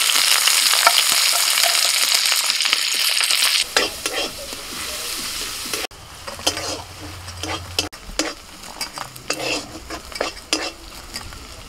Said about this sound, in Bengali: কড়ার মধ্যে তেল দিয়ে দিয়েছি, তেলের মধ্যে দিয়েছি রসুন কুচি, পেঁয়াজ কুচি